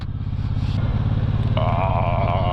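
Suzuki M1800R motorcycle riding on a road in Norway, its engine a loud, steady low rumble close by with wind noise on top and a rising tone near the end as it picks up speed.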